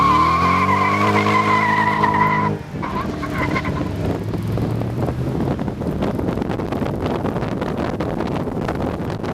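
Morgan Aero sports car engine accelerating, a strong harmonic rising whine that breaks into a loud, rough rush of engine and wind noise, close and sustained.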